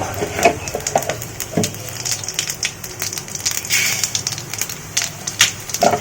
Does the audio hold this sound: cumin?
yes